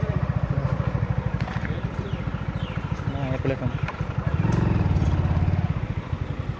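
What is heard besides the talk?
motorcycle engine while parking the bike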